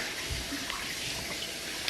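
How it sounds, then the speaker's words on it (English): Water being strained off food in a kitchen sink while cooking jerk wings, a faint, continuous splashing pour with no talking. "I just got to make sure I strain off the water"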